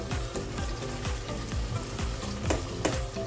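Steady sizzling of ginger, garlic and onion frying in a pan, with rhythmic scraping and stirring strokes throughout, fairly loud and close with no talking.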